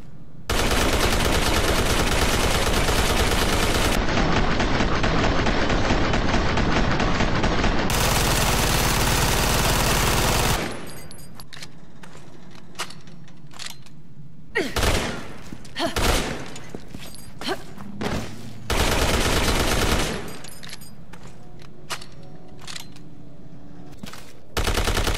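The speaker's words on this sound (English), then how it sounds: "time for the next weapon category, the machine pistols. And the first one is the Ammo Box 50." Ammo Box 50 machine pistol from Resident Evil 6, firing in long sustained automatic bursts, loud and dense, followed by shorter scattered bursts and single shots with gaps between them.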